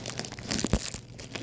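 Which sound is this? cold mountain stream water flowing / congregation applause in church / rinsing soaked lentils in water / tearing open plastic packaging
tearing open plastic packaging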